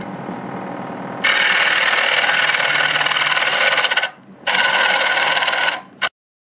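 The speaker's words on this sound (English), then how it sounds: "I'm going to use a half inch bowl gouge now." A half inch bowl gouge cuts into a spalted Norway maple bowl on a lathe, with loud, close, steady shearing and rasping runs, a short pause between two passes, and a quieter lathe hum before the cutting starts.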